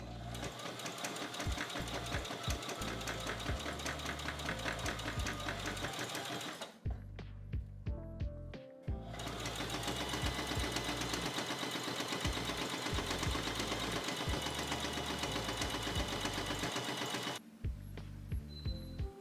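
A sewing machine stitching elastic tunnels around pajama sleeves runs in long continuous bursts of rapid, even needle chatter, close by and steady. Two short pauses break the run.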